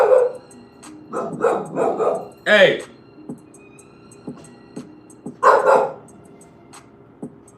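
A dog barks loudly and repeatedly close by in uneven bursts, with yips in between. A person talks briefly over the barking.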